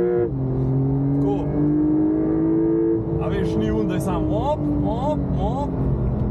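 A Porsche 992 GTS engine revs smoothly and steadily while driving, its tone climbing and holding under continuous cabin noise, with short rising pitch sweeps toward the end.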